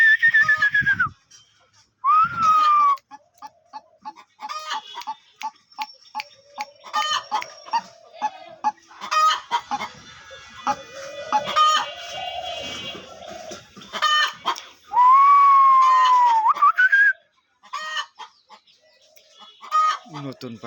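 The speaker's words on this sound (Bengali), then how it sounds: "এই যে দেখতে পাচ্ছেন নতুন ডাউক পাখির বাচ্চা, হেভি রাগী বাচ্চা, ডাকনা টাকনা ফুলিয়ে দিচ্ছে" A young white-breasted waterhen (dahuk) kept for sale calls loudly and close by in repeated sharp whistles and harsh clucking bursts, with pauses between them.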